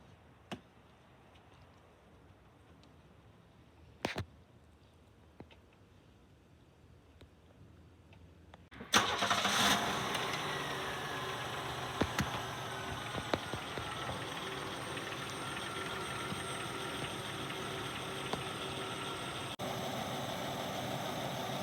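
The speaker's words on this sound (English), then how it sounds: "we're gonna start the engine to see if we have any leaks" A few faint clicks in near silence, then a 1996 Oldsmobile Ciera engine cranks and catches after an oil and filter change, settling into a steady, close idle hum that runs on.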